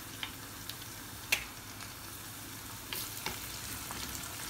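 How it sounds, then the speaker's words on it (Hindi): Onions frying in a pan with green chillies added and stirred, a steady close sizzle broken by a few sharp clicks and taps of the spoon against the pan. "मैं डाल दूंगी इसमें दोनों हरी मिर्चें"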